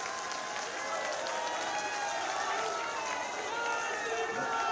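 A crowd claps steadily at a public rally in Haldwani, in Uttarakhand's Nainital constituency, the applause a dense, even wash that holds without breaks.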